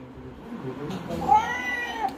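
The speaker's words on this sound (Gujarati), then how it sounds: "મિયાઉ મિયાઉ" A cat meows twice in a close, short clip, each cry rising and falling, with faint household background sound beneath.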